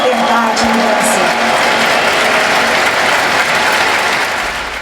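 A theater audience bursts into loud, sustained applause, cutting off a speech by the president of Brazil's Military Justice tribunal. The dense clapping holds steady throughout, with a voice briefly audible at the start before it is swamped.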